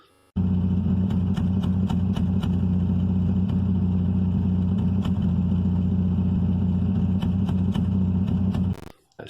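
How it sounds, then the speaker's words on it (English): A cheap, run-down second-hand car engine runs rough for about nine seconds, a steady close drone broken by uneven knocks and clatter, before cutting off abruptly; no one speaks. "the car runs like shit"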